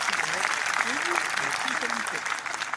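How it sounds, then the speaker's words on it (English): Spectators applaud steadily at a golf match, a continuous crowd of clapping hands with voices talking faintly underneath. "The clapping does give it away."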